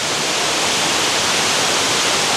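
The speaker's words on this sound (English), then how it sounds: "Waterfalls. It's just so stunning." Waterfalls at the lagoon cave pool of the Hyatt Regency Grand Cypress Resort pour with a steady, close, full-bodied roar of falling water that never lets up.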